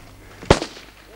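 A single sharp gunshot from a sniper firing during street fighting in the village of Doroțcaia in April 1992, one fairly close crack with a short echo.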